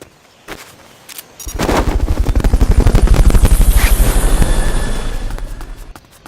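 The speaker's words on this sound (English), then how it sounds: "Fulton recovery helicopter is complete." A loud Fulton recovery helicopter in the video game Metal Gear Solid: Peace Walker, with rhythmic rotor thumping, swells up after a few scattered bangs, peaks and then slowly fades away, with no speech.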